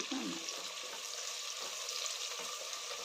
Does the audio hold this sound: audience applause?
no